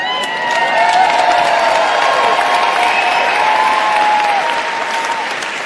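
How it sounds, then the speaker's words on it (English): A large arena crowd at a live London event roars with sustained applause, cheering and whoops, loud and dense throughout, with no clear speech over it. "all this shouting and clapping is fine"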